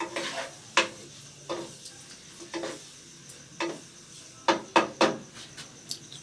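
Chicken karahi cooks in oil in a pot, with a soft sizzle under repeated clinks and scrapes of a spoon stirring at an uneven pace, close by and without voices.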